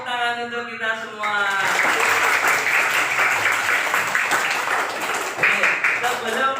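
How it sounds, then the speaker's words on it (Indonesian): A primary-school class breaks into loud, steady applause that fills the room for several seconds after a teacher's brief spoken lead-in, with scattered voices mixed into the clapping. "Tepuk tangan untuk kita semua."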